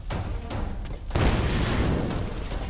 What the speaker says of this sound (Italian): Ormai siamo arrivati al punto che ci sono 30 esplosioni al minuto.